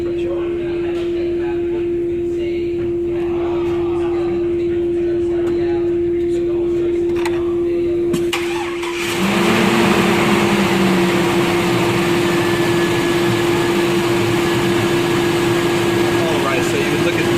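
A car engine starts partway through during a fuel pressure test with a gauge attached and then settles into a steady idle. A constant thin whine runs under the whole stretch.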